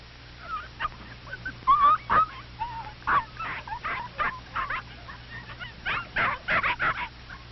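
Little puppies yip, whimper and squeal in short high bursts, some overlapping in quick clusters, fairly close but not loud, over a low steady hum.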